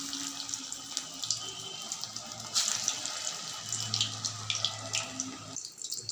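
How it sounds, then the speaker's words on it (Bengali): Chicken pakora deep frying in oil over a low flame, a steady close hiss and bubbling sizzle that continues throughout. "লো ফ্লেমে এইভাবেই ডিপ ফ্রাই করে নিতে হবে।"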